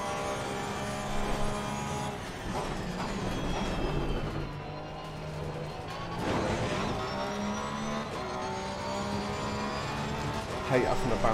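GT3 race car at Zolder in Assetto Corsa Competizione, engine droning loud and steady with harmonic whine rising and falling through shifts, tires scrubbing and bouncing over kerbs, someone talking over it.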